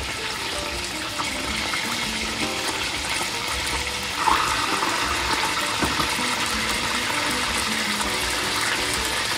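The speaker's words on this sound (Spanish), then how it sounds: "con aceite comenzamos a poner, a sellar nuestras pechugas" Chicken breasts sear in hot oil in a pan for mustard chicken, a steady loud sizzle that holds through the whole stretch with a small bump partway.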